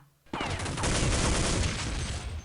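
Rapid automatic gunfire from the video game Counter-Strike 1.6 bursts in abruptly after a brief quiet moment, loud and dense with sharp repeated cracks sustained to the end.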